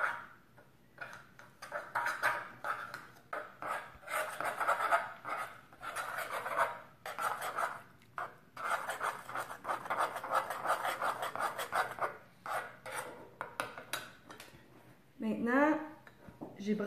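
Homemade toothpaste of coconut oil and peppermint essential oil being stirred in a container, producing soft, uneven rasping and rubbing strokes that come and go, with a voice speaking now and then.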